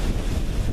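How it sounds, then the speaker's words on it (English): Strong wind buffeting the microphone, a constant loud rumble and rush with no pauses. "So it's very windy right now."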